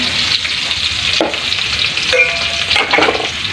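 Chopped onion and garlic sizzle loudly in hot oil in a frying pan, a steady close crackling fry with occasional stirring scrapes and no talking.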